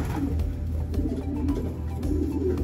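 Pigeons in a loft coo softly and repeatedly, low rounded calls layered over a steady background hum with occasional sharp clicks and flutters, no talking.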